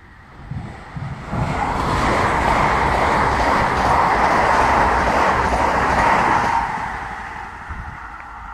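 A train passes close through Maromme railway station on wet rails, a loud sustained rumble and rushing roar that swells after a second, holds steady for about five seconds, then eases off while still audible.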